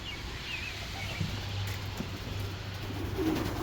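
A racing pigeon coos in low, soft, drawn-out tones close by. The calls are steady but faint, heard against a constant background hum and outdoor noise.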